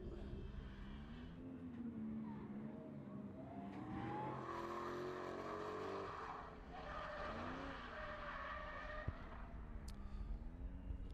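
A Ford Mustang drift car at a French drift championship qualifier, its engine roaring and revving with sustained tire squeal and skidding, loud and continuous, with a brief sharp knock near the end.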